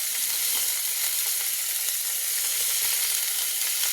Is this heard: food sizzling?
yes